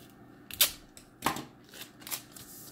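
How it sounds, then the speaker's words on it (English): Packing tape is pulled off a roll for a folded paper cash envelope, giving three short, crisp ripping bursts close by in a quiet room. "what I do with these is I just take a little bit of packing tape"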